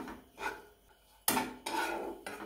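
Grated dry coconut stir-fried in melted ghee for dry fruit ladoos, with scraping and rasping bursts from a utensil against the pan, several strokes separated by brief quieter gaps, close-up with no voices.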